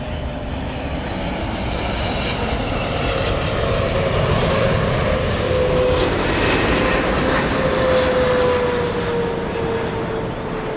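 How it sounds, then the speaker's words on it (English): A Boeing 777 jet roars through a long, steady, loud departure at Los Angeles International Airport, its broadband engine noise sustained throughout with a faint tonal whine slowly drifting across the rumble. "we have a big 777. That's the plane you're hearing right now"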